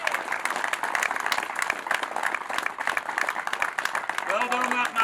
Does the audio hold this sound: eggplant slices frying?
no